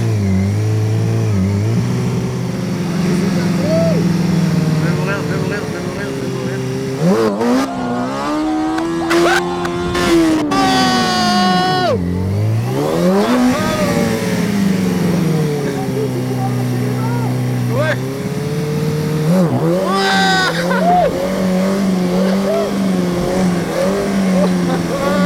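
A motorcycle accelerates hard during wheelie practice, its engine rising and falling through loud revving sweeps with a sharp climb midway, close by and continuous, with a voice speaking over it.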